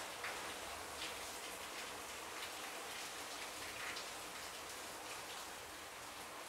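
Rainy-season rain patters steadily, a faint, even, continuous hiss of falling drops with occasional brighter drips, and no one speaks.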